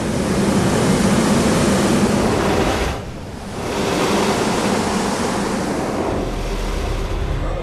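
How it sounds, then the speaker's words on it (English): Roaring water rushes through deep stone shafts at the ancient temple of Chavín de Huántar, a steady, loud broadband roar that dips briefly and then resumes, with no voices. "They're a sort of speaker from which the roaring voice of the water emerged."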